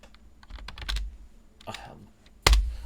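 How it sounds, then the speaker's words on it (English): Computer keyboard keys tapped in a few sparse clusters, close and fairly quiet, ending with a louder burst of clicks. "I'm not typing slow because, you know, it's saying semolina."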